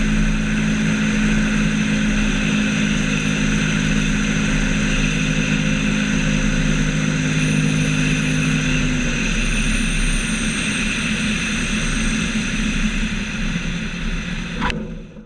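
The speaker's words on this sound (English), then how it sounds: "Not the smoothest landing, but finally we are here in Zweisimmen." Small airplane landing at Zweisimmen airfield in Switzerland, heard from the cabin: a loud, steady engine drone with a tone that drops partway through as power comes back, ending in a brief bump near the close.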